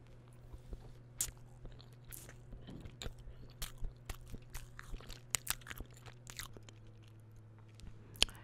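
Bites into a chocolate-topped Dunkin donut, followed by close, crisp crunching and chewing in a steady series of sharp clicks over a faint low hum, with no talking.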